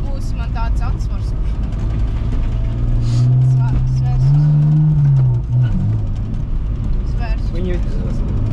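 Race cars driving on an airfield circuit, one engine rising and revving loudly up close with a sustained whine before easing off, with people talking over it.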